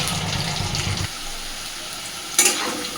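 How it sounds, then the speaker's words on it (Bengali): Potatoes frying in hot oil, a dense sizzle with low bubbling for about a second, then a quieter hiss and a sudden clatter of stirring near the end. "তো আলুগুলোকে এবার আগে সুন্দরভাবে ভেজে নেব"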